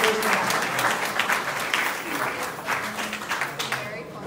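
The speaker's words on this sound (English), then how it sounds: "So a round of applause for Kim Hose" Audience applause at a panel event on rural area incentives, steady dense clapping filling the room for several seconds, with some voices mixed in underneath.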